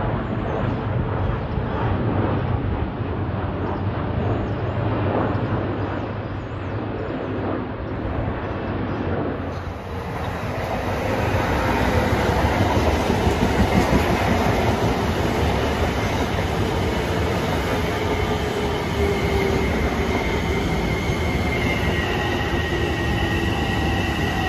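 A Long Island Rail Road train pulls into Merillon Avenue station at rush hour, a loud, steady rumble of rolling cars and wheels that swells midway, with brakes and wheels squealing in drawn-out tones as it slows to a stop.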